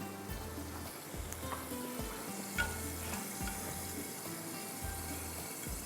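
Finely chopped ginger hits a pan and fries with a steady broad sizzle, broken by a few soft clinks and scrapes of a utensil stirring, no voices.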